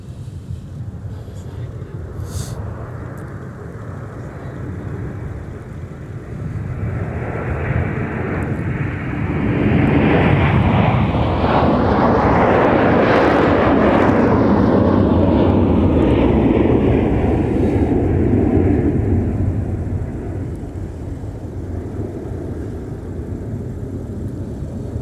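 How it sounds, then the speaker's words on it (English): Delta jet airliner, flight 152 to Paris, departing from MSP airport, its roar swelling over several seconds to a loud sustained peak, then fading as it climbs away. "get another departure here. It's Delta 152 off to Paris."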